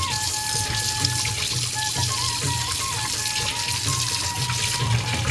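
Water pours steadily from a tap while boi and palu fish are rinsed clean, a continuous close rushing splash with faint clinks mixed in.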